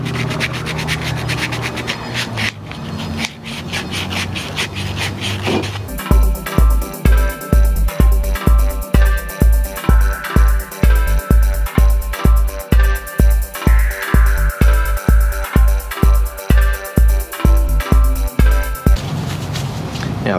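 Billet intake parts for an R32 are wet sanded by hand with wet-dry sandpaper pressed under a finger. Loud, close rubbing comes first, then a long run of rhythmic, evenly spaced strokes that thump and scrape.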